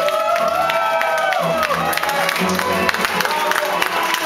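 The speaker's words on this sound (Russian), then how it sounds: "под аплодисменты." A crowd applauds and cheers at a wedding as the couple takes the floor for the first dance, with dense clapping running steadily throughout while musical tones and a voice sound beneath it.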